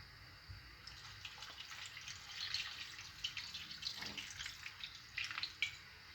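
Water is poured from a glass into a pot of olive-oil stuffed grape leaves topped with lemon slices, a soft continuous trickling and splashing that swells in the middle and ends with a few faint clinks.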